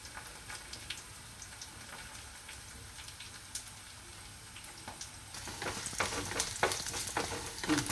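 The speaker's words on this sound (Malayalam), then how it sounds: "ഉള്ളി നല്ലവണ്ണം മൂത്ത് വന്നിട്ടുണ്ട്." Onions fry with a soft, steady sizzle in a pan while being stirred; spatula scrapes and bursts of crackle grow louder and busier toward the end.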